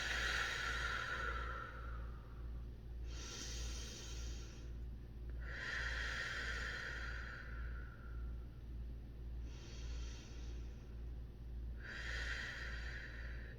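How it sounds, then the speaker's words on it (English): Slow, deep breaths alternate with pauses, each inhale and exhale a soft close rushing airflow, five or so cycles over a low steady hum. "So let's take a legit deep breath."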